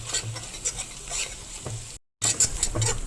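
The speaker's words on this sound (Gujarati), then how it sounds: "લસણ અને મરચાંની પેસ્ટ જે છે એને થોડીક એવી ગુલાબી કરવાની" Garlic and chili paste fries in hot oil while being stirred, giving a steady sizzle with repeated scraping strokes of a spoon against the pan, broken by a brief gap.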